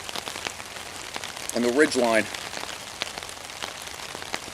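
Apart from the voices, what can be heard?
rain falling on a tarp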